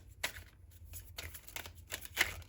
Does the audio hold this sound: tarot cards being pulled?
yes